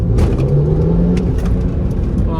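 A BMW E46 M3 accelerates hard, its engine note climbing steadily and loudly from close by, with no talk over it.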